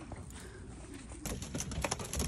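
Racing pigeons back from a 400 km race, fed a sauteed grain mix, give soft coos and cooing calls close by, with fluttering and scratchy pecking growing busier partway through.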